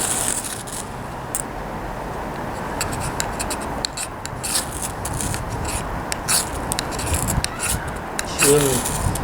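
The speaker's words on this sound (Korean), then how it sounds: "이 상태에서 아까처럼 질 긁듯이 파기는 것보다는 스무드하게 위에서 밑으로" Wood being scraped smoothly from top to bottom into fine tinder powder for starting a fire outdoors, a steady close rasping and rubbing with brief scratchy strokes over wind noise, no one speaking.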